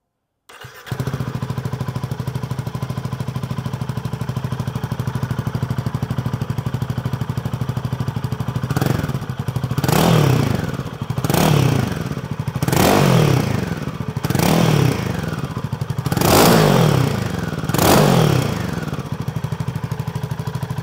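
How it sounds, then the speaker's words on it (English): A Royal Enfield Himalayan 450 fitted with a decat pipe idles steadily, then is revved repeatedly, about six sharp throttle blips rising and falling in an even rhythm, loud and close with no talk. "Let's hear the bike now."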